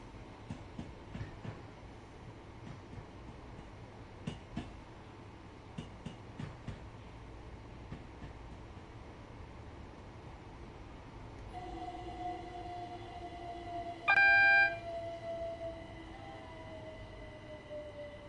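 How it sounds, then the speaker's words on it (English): A class 313 electric train crosses London Viaduct in Train Sim World 2, with rhythmic wheel clicks over rail joints, then a rising motor whine joined by a loud, brief horn blast near the end. "313 going over London Viaduct."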